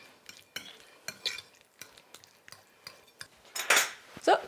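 Utensils scrape and clink against a bowl in short irregular strokes as ingredients are stirred together for a vegetarian Christmas appetizer, close and fairly loud, with no talking.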